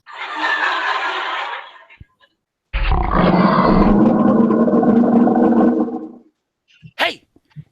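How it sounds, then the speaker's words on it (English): Lion roaring as a radio play sound effect, two long loud roars separated by a pause, followed by a short burst of other noise. "The lion's just north of us."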